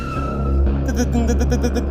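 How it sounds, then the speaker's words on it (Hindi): Cartoon sound effect of a car braking suddenly at a hillside edge, tires skidding in a short rising screech over an engine hum. "प्रतीक घबरा कर अचानक से कार को ब्रेक लगाता है"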